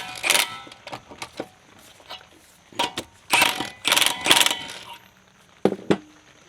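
Wheel lug nuts being run up by hand in a criss-cross pattern during a brake pad change, heard as short bursts of metallic clicking and ratcheting with gaps between them, close and clear.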